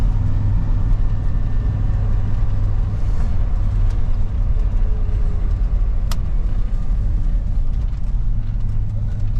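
A 1985 Chevrolet Suburban squarebody with an NV4500 manual gearbox pulling away from a stop in second gear on flat ground, a loud, steady low engine drone heard from inside the cab with no clear rev changes.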